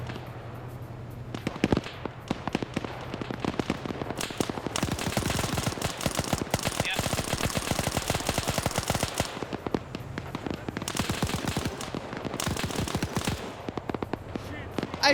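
Long stretches of rapid video game gunfire, crackling bursts and dense automatic volleys that come and go over about fifteen seconds, with voices talking in the background.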